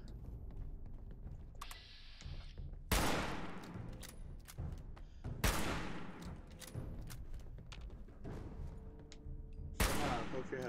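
Hunting rifle fire in Fallout 76 booms out as three or four loud, sharply separated gunshots, each followed by a ringing decay, over a background of game ambience and mechanical clatter.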